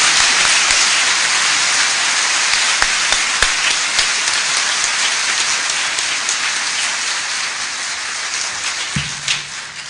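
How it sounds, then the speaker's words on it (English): A banquet crowd at a 40th wedding anniversary celebration applauds in a loud, dense wash of clapping that holds steady and then begins to thin toward the end. "Let's give her a round of applause."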